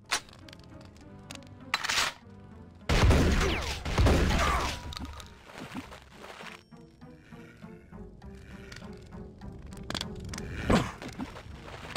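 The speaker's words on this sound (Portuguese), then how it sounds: "acabou a bala, tô dando tiro aqui" Gunfire and impacts in the Brutal Doom video game, with sharp bursts and cracks, a loud crashing stretch in the middle and scattered thuds and clicks between shots, no talk heard.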